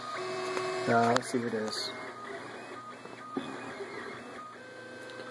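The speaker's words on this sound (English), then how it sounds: "It's like a major distraction having a 3D printer because you can just sit here all day and watch it work." A 3D printer printing interlocking bearings, with whirring stepper-motor tones and short mechanical buzzes at close range, and a person speaking briefly.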